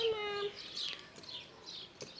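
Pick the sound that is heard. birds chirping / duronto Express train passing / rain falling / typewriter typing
birds chirping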